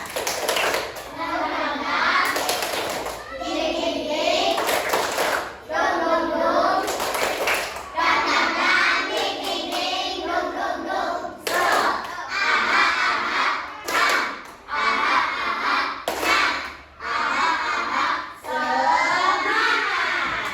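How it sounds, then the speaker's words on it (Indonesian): A fourth-grade class performs the rhythmic 'tepuk semangat' clap, bursts of patterned hand claps alternating with children chanting in unison, loud and close in a classroom. "Tepuk semangat."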